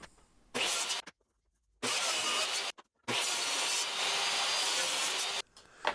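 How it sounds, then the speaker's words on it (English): A table saw trims a wooden checkerboard in three loud, steady cutting passes, each a harsh whirring rasp separated by brief silences, close and without talk. "back to the table saw, just getting the checkerboard trimmed up and ready to get mounted"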